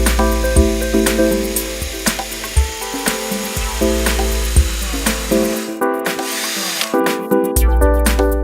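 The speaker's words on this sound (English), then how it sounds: "Drill a hole using a 4mm drill." A power drill with a 4mm bit whines steadily at close range drilling a hole, its pitch wavering under load, then cuts off briefly before starting up again.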